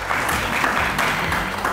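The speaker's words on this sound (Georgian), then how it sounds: "კარგი აპლოდისმენტები დარბაზიდან" A studio audience claps through a short, steady burst of applause on a Georgian television comedy quiz show, fairly loud and sustained, with no speech over it.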